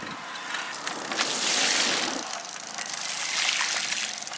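An electric bike rides through a puddle on a rainy street, with bursts of water spray and splashing hiss from the tires over a faint mechanical whir, no talking.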